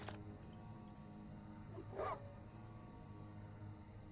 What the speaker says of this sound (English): I'm concerned that I'm hearing the wolf,